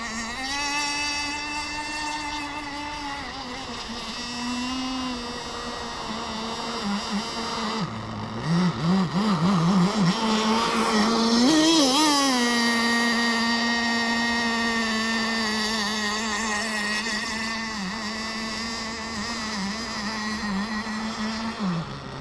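A Blackjack 26 nitro RC boat engine runs steadily on the water, with a brief sputtering dip and a rise in pitch midway before it settles back to an even drone.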